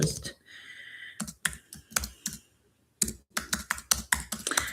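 Bursts of computer keyboard typing come in quick clusters of close, crisp key clicks separated by brief pauses, with a short stretch of faint voice near the start.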